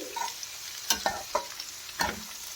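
An egg bhurji mixture with onion fries uncovered in a pan, a low steady sizzle punctuated by several distinct scrapes and clacks of a stirring spoon, close and without speech.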